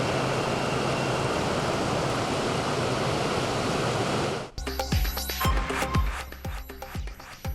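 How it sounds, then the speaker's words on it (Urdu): Floodwater of the Kabul River in high flood, heard as a loud, dense continuous roar of rushing water for about four seconds before cutting abruptly to music-like pulsed broadcast sounds. "دریائے کابل میں اونچے درجے کا سیلاب۔"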